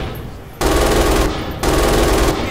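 MG 42 machine gun fire in the video game Red Orchestra 2: two loud, close bursts of rapid automatic shots, each lasting about a second, separated by a short pause.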